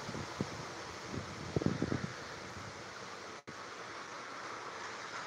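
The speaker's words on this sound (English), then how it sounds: "there's a storm coming, must be, because it's kind of windy, sprinkling." Steady wind gusts blow before an approaching storm with light sprinkling, a broad rushing wash close to the microphone, broken by a few soft knocks and rustles.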